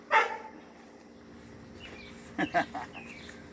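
A pet dog named Sheba gives a single sharp bark up close, then after a quiet pause a short burst of two or three barks, with a faint voice nearby.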